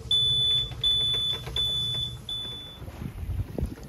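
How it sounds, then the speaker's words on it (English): A Raymarine navigation alarm on a sailboat during a solo passage from Tenerife to Portugal sounds a series of piercing, high electronic beeps in short repeated bursts, then stops, leaving low wind rumble and hull noise. "The Raymarine alarm will come on very shortly now as well, which will deafen us."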